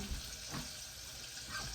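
Steady crackling sizzle of pig tails deep frying in hot oil, a close, continuous hiss with faint popping throughout.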